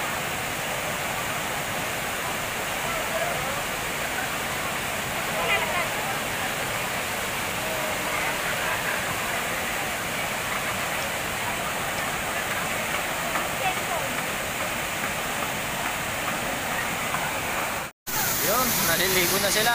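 Maranum Falls waterfall pours in a steady, loud broadband roar that fills the whole stretch, with swimmers and voices faintly mixed beneath it and a brief dropout near the end.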